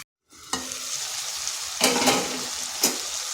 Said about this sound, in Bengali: ঢাকাটা খুলে খুলে এইভাবে আমি নেড়ে দিচ্ছিলাম